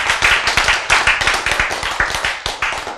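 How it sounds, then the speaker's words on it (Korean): Church congregation clapping during a sermon, loud close rhythmic applause from many hands with sharp, quick overlapping claps in a steady pulse and no speech. "박수!"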